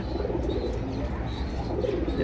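Soft pigeon coos rise and fall in a pigeon loft over a low, steady hum, with occasional faint chirps nearby.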